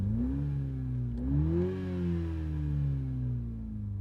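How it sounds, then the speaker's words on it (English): A 2021 Toyota GR Supra with the 2.0-liter engine accelerates, its engine note rising in pitch through a couple of revving pulls with a steady, smooth hum, heard from inside the car. "Okay, we'll accelerate a bit."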